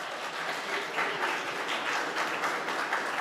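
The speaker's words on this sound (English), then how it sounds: "please give them a round of applause there" A conference audience at CyberCon gives a brief round of applause, steady quiet clapping from a crowd lasting a few seconds.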